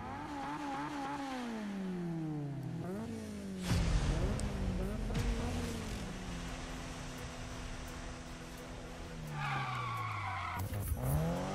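Engine note of a car in Need for Speed 2015 sweeping up and down, then braking into a loud, sustained tire skid, with a second screech near the end; a faint voice is also heard.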